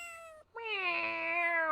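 A cat meows twice inside a video game, a short cry followed by a longer drawn-out meow, loud and close with no talk over it.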